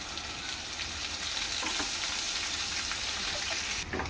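Finely chopped onion pieces frying in oil for a brinjal yogurt chutney, a dense, even sizzle that goes on loud and close the whole time, with faint stirring beneath it.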